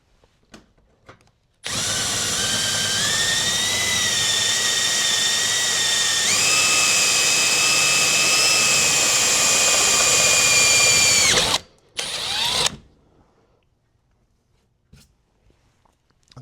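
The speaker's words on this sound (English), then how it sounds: "Actually, I might drill the hole first here." A power drill, fitted with a worn step bit swapped for a standard bit, bores a hole for a 2012-2015 Camaro ZL1 tow hook, running loud and steady for about ten seconds with rising pitch, then stopping with a brief restart burst.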